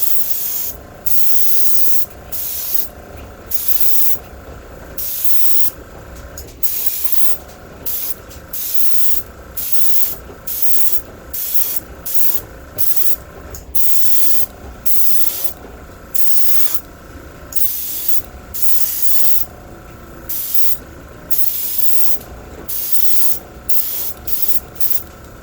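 An airbrush applies a fluorescent yellow coat of paint to a fishing lure, heard as many loud, close hissing spray bursts in a steady on-off rhythm of short pulses with brief gaps.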